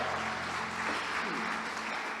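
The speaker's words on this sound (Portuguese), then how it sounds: "Dá um aplauso para Jesus" Steady applause from a large church congregation, a dense wash of clapping that holds at an even level throughout, with faint voices underneath.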